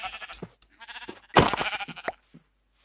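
Sheep bleat in a video game, several short nasal calls followed by a louder, longer bleat in the middle, all close and clear with no talking.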